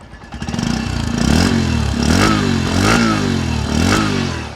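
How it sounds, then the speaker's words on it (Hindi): A 2022 Bajaj Platina 110 cc motorcycle engine cranks and catches, then runs with a steady rumbling idle and a few throttle blips, close and fairly loud. "मैंने इस मोटरसाइकिल को स्टार्ट कर दिया"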